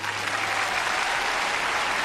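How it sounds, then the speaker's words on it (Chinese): A large audience at an awards ceremony gives a steady, dense round of applause, loud and continuous throughout with no voices over it. "让我们把充满崇敬的掌声送给雪健老师"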